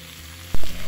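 Carrots and other capcay vegetables are stir-fried in a pan. A low steady sizzle is followed by a sudden loud burst of frying and a scrape of stirring partway through, then a louder sizzle continues. No one is speaking.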